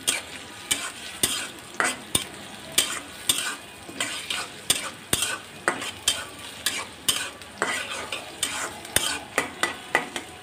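Chopped garlic, onion and green chilies sizzle in hot oil for a lentil dal, with a spoon scraping and stirring the pan in quick repeated strokes, close and alone.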